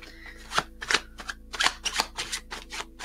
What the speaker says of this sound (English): It's like a mini shuffle.